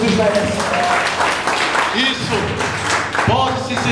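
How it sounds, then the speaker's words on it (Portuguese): In a Portuguese-speaking church service, the congregation claps their hands loudly and continuously as a dense mass of applause, with voices calling out through it. "Bata palmas para Jesus, que Jesus merece."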